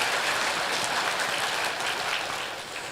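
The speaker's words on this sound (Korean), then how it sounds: "이순신 장군에서 또 한번 박수" Congregation applause at a Korean church sermon: a dense, steady wash of many hands clapping for about three seconds, fairly close, tapering slightly at the end with no talk over it.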